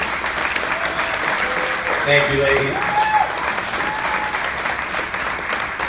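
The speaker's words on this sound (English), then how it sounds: "how about a huge round of applause one more time" An audience applauds steadily throughout, with a voice briefly speaking over the clapping.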